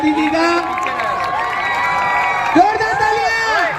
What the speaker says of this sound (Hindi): तो जोरदार तालियों से स्वागत होना चाहिए मोदी जी का।